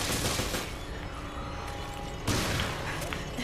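Dense, continuous gunfire in Resident Evil Revelations, loud and close, with rapid overlapping shots and a sharper blast near the middle.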